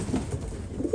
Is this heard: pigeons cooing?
yes